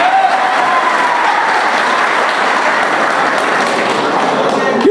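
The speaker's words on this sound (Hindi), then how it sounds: "एक बार तालियां बजाए जोर से" An audience at an Urdu poetry recital (mushaira) in Kendrapara, Odisha, claps loudly in sustained, dense applause that holds steady for several seconds.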